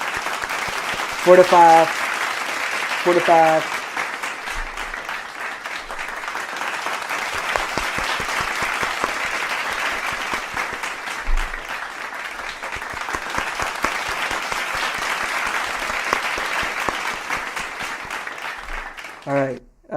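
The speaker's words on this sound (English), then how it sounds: "Clap it up for me" Applause sound effect played during a livestream, a long continuous burst of crowd clapping, loud and steady, with a voice talking briefly near the start and again at the end.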